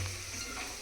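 Ginger garlic paste frying in a pan for vegetable biryani, giving a steady close sizzle with a low stirring hum throughout the short moment, no voices.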